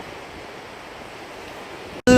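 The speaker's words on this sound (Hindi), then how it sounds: "This is a stream here." A stream of water flows near Versova beach in Mumbai, giving a steady, moderately loud broadband wash that cuts off abruptly into a short, different burst at the end.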